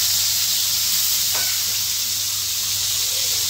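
Fish frying in hot oil in a home kitchen, a steady close sizzling hiss running throughout with no talk.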